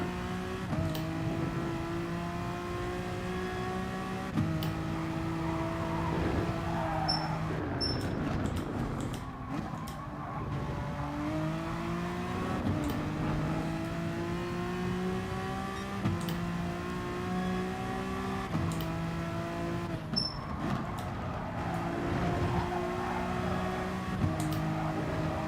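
Race car engines from a Honda NSX and a Corvette in Gran Turismo Sport scream steadily throughout, pitch climbing and dropping with each gear change as the cars run close together, loud and continuous with no talk.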